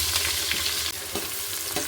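Two chopped onions hit hot oil in a pan for bread palau, giving a close, steady sizzle with stirring scrapes and crackles throughout.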